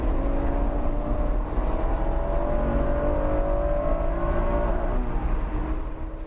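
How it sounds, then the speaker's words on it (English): A Honda NSX engine revs hard near and loud, the pitch sweeping upward in steady climbs as it runs into the rev limiter, with no talking. "I was pretty quick on the draw grabbing third when it hit the limiter"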